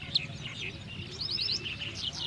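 Several birds chirp and tweet in short bright bursts over a steady low outdoor rumble at Ankasamudra lake bird sanctuary in North Karnataka, a lively chorus at moderate distance.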